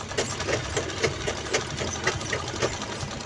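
A sewing machine runs a steady stitch along a small fabric mobile pouch, its needle tapping in a quick, even rhythm over a constant motor hum, close and alone.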